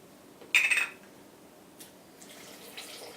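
Water poured into a jar of pounded limes for fermenting, one short splashing pour followed by faint trickles and drips.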